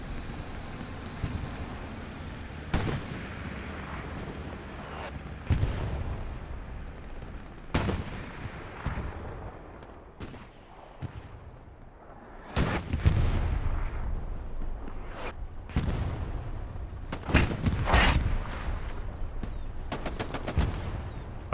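Tank combat and gunfire in the PC shooter Hell Let Loose, with a Panzer IV, Soviet tanks and a T-70 involved, giving repeated booming cannon blasts and bursts of firearms over a low rumbling battlefield, without talking.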